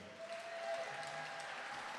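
Faint applause from an audience, a steady patter of clapping heard at a distance for a couple of seconds.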